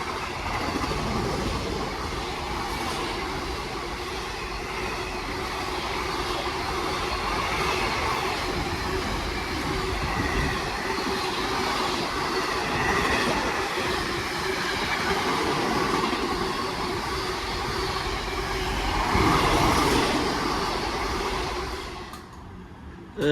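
DB Cargo Class 66 locomotive 66185 hauling a freight train from Trafford Park to London Gateway, heard as a steady, loud rumble and clatter of wagons rolling past continuously for the whole stretch, fading abruptly at the end.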